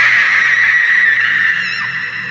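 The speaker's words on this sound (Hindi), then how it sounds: "एक भयानक सी चीख के साथ" A terrifying scream from a horror story: a loud, sustained high-pitched shriek that holds steady for over two seconds and fades slightly at the end, with no talk.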